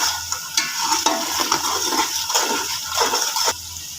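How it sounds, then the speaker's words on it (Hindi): Chilli masala for beef paya roasting in a pan, a steady hiss with repeated scraping stirs of the spoon at a close, moderate level, no voices. "ये देखें, ये मैंने मसाला जो है इसका ये भूनना शुरू हो गया है।"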